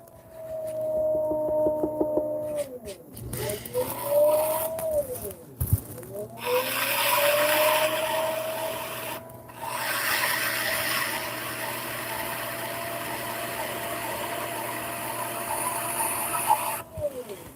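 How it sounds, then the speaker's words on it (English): A trimming tool scrapes clay on a spinning pottery wheel, giving a steady close rasping hiss under a continuous whirring motor tone that dips and rises, while a person talks throughout. "That thing it's just a really nice trimming tool."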